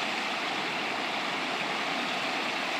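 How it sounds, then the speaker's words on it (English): Rushing water from a waterfall where kids are swimming, a steady, dense, loud roar with no clear breaks. "We are swimming in the waterfall."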